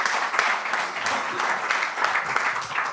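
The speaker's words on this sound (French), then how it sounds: "d'accueillir sous vos applaudissements le président du conseil régional de Hauts-de-France" Steady audience applause welcoming the president of the Hauts-de-France regional council, Xavier Bertrand, a dense wash of clapping that holds level for a few seconds without pause.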